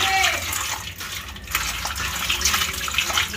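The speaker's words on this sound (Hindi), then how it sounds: "इसको हमने चालन में निकाल लिया है और अब हम ठंडे पानी से इसको धुल लेते हैं" Cold water pours and splashes over mushrooms in a colander for about three seconds, a steady close rushing gush with no talk over it.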